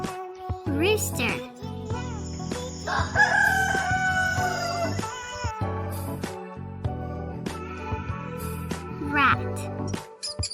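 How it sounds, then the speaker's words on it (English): A rooster crows in a clear, rising cock-a-doodle-doo on a farm animal sound track, the single loud call set against continuous background music and some short additional animal calls. "Rooster."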